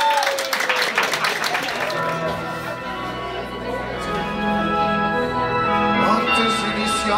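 The audience at a São Paulo drag show bursts into applause for a performer billed as Vanderléia. The clapping is loud for about two seconds, then gives way to music with long, sustained tones.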